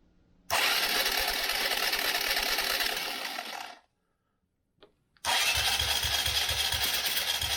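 A 2014 Honda CRF125F dirt bike engine with its spark plug out is turned over with little compression: two long bursts of steady whirring cranking, loud and close, separated by a silent pause with a brief click.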